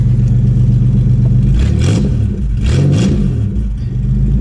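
Close, loud engine of a demolition derby car idling roughly with a lumpy, pulsing rhythm, revving up twice in quick bursts before settling back to a rough idle.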